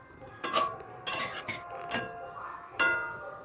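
A spoon stirring cauliflower and boiled potatoes in a metal pot, a handful of sharp clinks and scrapes spaced irregularly over a quiet kitchen background.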